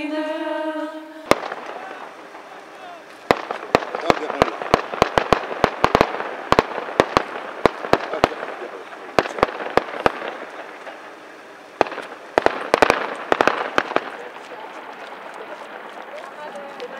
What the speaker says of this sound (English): Does that gunfire startle you at all?